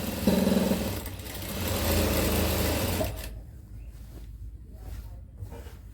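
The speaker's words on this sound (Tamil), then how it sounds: "இது வந்து ஃபோல்டிங் அப்படியே தைச்சிட்டு போக வேண்டியதான் கண்டினியூஸாக, எதுவுமே பண்ண வேண்டாம்." A sewing machine runs steadily, stitching the folded hem of an umbrella-cut nighty in one continuous pass. The whirring fills the first three seconds, then stops abruptly, leaving only faint room noise.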